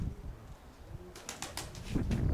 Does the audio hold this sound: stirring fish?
no